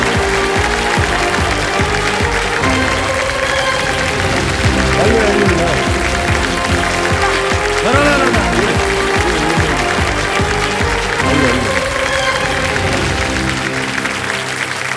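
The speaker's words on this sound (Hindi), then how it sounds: "ताली बजते रहे पुष्पांजलि जी।" Sustained applause from a TV quiz show studio audience, steady and loud throughout with music and voices mixed in underneath.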